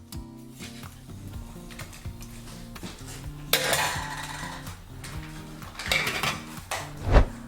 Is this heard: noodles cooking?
yes